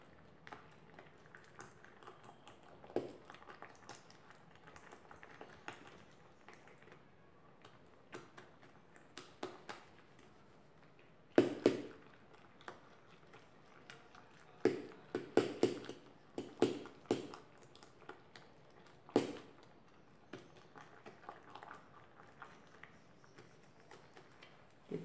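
Grated supermarket soap mixed with boiled water is whisked in a pan, giving faint, irregular taps and clinks of the whisk against the metal, with a few louder knocks clustered midway.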